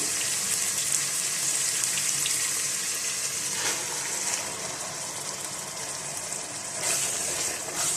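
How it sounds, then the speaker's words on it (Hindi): Tomatoes fry in a pan with ginger and garlic paste for Madraasi daal, giving a steady, close, hissing sizzle throughout. "हम टमाटरों को भूनेंगे अदरक और लहसुन के पेस्ट के साथ"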